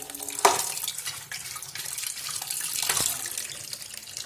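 Tap water runs steadily into a kitchen sink to soak raisins and cashews for fried rice, a continuous splashing hiss with a brief louder splash near the start.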